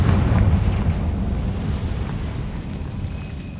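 A Confringo spell explosion in the video game Hogwarts Legacy bursts with a loud, deep boom and then rumbles away, fading over a few seconds with no voice over it.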